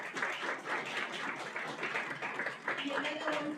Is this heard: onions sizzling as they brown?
no